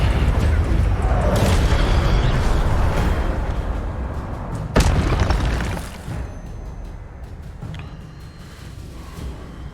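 Incendio fire spell in Hogwarts Legacy, a loud booming fiery blast with a sharp burst midway, rumbling on and gradually fading.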